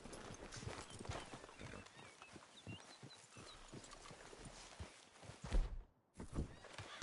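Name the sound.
horses neighing and hooves in video game Red Dead Redemption 2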